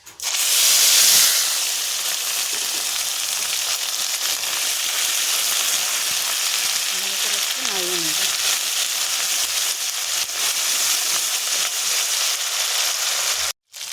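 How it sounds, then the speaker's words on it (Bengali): Cumin, ginger and chili paste sizzle steadily in hot oil, a loud continuous frying hiss that holds for the whole stretch after a sharp burst as the paste hits the pan, with light stirring scrapes midway. "ফোড়ন এবার আমি এখানে দিয়ে দেব জিরে জিরে বাটা আদা বাটা লঙ্কা বাটা"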